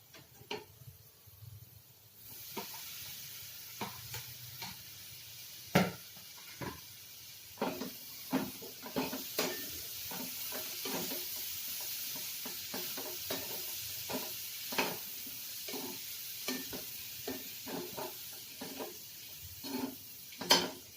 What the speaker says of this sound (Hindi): अब हम डालेंगे इसमें कटा हुआ टमाटर।